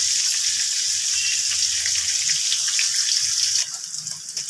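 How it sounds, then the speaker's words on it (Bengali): Cauliflower pieces with turmeric frying in oil, a steady close sizzling hiss that drops suddenly in loudness near the end. "ফুলকপিগুলো ভাজা হয়ে গেছে,"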